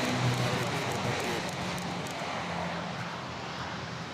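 A China Airlines passenger jet at Manila Airport produces a steady, broad roar of engine noise that holds for the whole stretch and fades slightly toward the end, heard at moderate distance from a spotting position.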